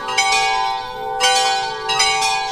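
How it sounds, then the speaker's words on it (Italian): Church bells ringing loudly, repeated strikes overlapping into a sustained ringing tone, no voices. "ascoltiamo le note emesse dalle campane della chiesa"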